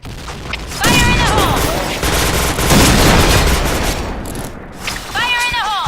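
Rapid bursts of automatic gunfire in the Point Blank shooter game, loud and close, with metallic weapon sounds and chirping effects between volleys.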